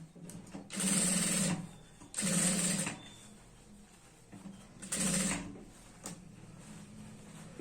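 A sewing machine stitches beside a skirt zipper in three short, close bursts, separated by quieter handling noises.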